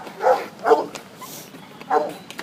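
Dog barking at an outdoor concrete job site: three separate loud barks spaced about a second apart, close by, with no talk over them.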